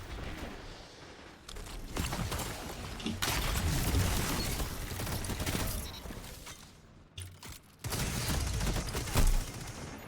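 Raid weapon gunfire in a video game, dense sustained bursts of rapid shots filling most of the stretch with brief pauses between volleys, loud and close.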